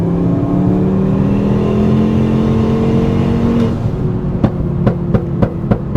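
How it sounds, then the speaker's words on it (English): A turbocharged five-cylinder VW Rabbit pulls hard with a rising, droning engine note, then lifts off as the blow-off valve sighs, followed by several sharp crackles and pops, loud and close. "And the blow-off valve is very loud."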